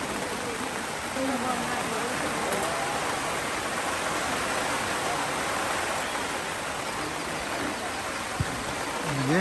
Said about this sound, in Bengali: আর বাহিরে দেখুন কত বৃষ্টি